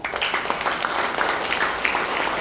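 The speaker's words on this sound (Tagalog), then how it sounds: "Sige, tuloy natin ang palakpak." A church congregation claps together in a steady, dense burst of applause that fills the room at close range.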